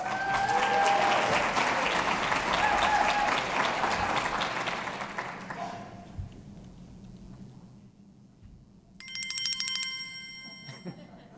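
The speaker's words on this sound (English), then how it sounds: "That was my high-tech bike bell on my fabulous flip phone." A flip phone's electronic ringtone sounds as a mock bike bell, a bright beeping melody that rings loud and close for a couple of seconds, right after sustained applause from a large conference crowd fades.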